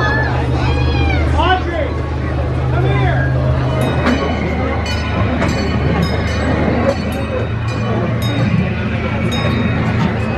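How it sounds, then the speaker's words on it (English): An amusement park train ride rolls along with a steady low rumble and rattle, occasional clinks and squeals from the cars, while people talk and chatter throughout. "And here we go on the train."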